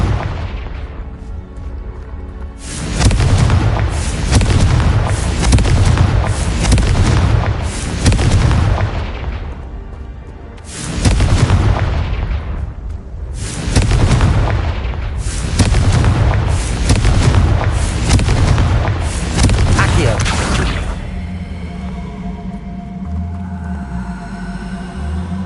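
Confringo blasting curse explosions from Harry Potter, a long run of loud, dense booming blasts that come in several bursts and then cut off into a quieter hum.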